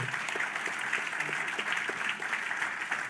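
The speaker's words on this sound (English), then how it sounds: "Clap your hands for my brother" A room full of people claps continuously at an event about King, a steady crowd wash of hands without pause.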